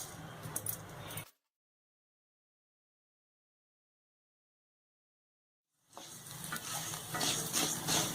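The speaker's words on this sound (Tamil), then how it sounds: "அதுக்கு முதல்ல வானலியில் நெய்யை விட்டு ஜவ்வரிசியை வறுத்து எடுத்துக்கணும்." Sago pearls roast in ghee in a pan with sizzling and stirring scrapes in two bursts separated by several seconds of silence, the second burst growing louder.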